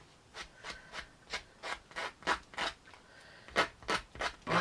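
The corners of a miniature piece for a garden shop are rounded off with about a dozen quick, rhythmic rubbing strokes of abrasive, close and fairly soft, with no talk.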